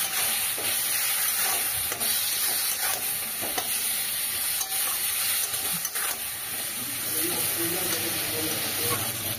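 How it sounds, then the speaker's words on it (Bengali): Ground spices being sautéed with a splash of water in a pan for a spicy tangra fish curry, a steady loud sizzle and hiss with occasional stirring scrapes throughout. "সামান্য জল দিয়ে কষিয়ে নেব।"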